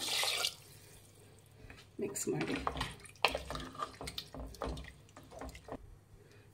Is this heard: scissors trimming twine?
no